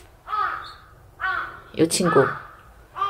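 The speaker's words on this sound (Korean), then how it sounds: "아침에 까마귀들이 목청을 많이 다듬네요" Crows caw in a garden on a morning, several harsh, hoarse calls in a loose sequence at moderate distance, with a person speaking briefly among them.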